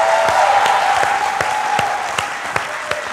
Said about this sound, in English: Please give them an equally big round of applause.